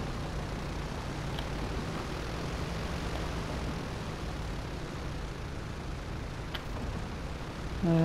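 An airplane engine drones steadily in Grand Theft Auto V, a constant broadband roar with no breaks, ending in a brief tonal burst.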